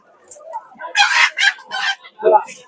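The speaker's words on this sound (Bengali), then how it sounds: "এই যে দেখেন কত সুন্দর মোরগ এগুলা সব এই অঞ্চলের মোরগ" A rooster crowing at a rural livestock market in Mymensingh, Bangladesh, a loud nearby call in several strained bursts, heard on its own without speech.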